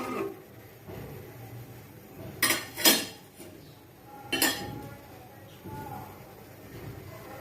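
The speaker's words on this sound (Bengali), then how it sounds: "একটু নেড়ে চেড়ে দিব যাতে চালগুলো দলা পাকিয়ে না যায়।" A spoon scrapes and clinks against a metal pot while rice is stirred for payesh, a nolen gur rice pudding, giving a few sharp knocks and scrapes close by over a low background murmur.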